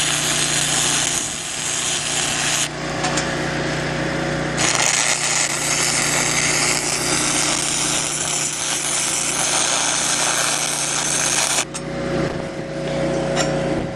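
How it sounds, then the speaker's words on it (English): A steel headlock bracket is welded in place, producing a harsh, continuous crackling hiss that is loud and close, with a few short pauses and shifts in intensity. "We weld front on one side and back on the other."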